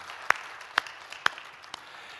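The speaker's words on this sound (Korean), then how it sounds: "감사하며 영광의 박수 한번 올려드립시다." Applause during a Sunday church service, heard as a few sharp, evenly spaced claps standing out close and distinct against a quiet room.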